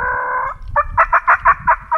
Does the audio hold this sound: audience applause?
no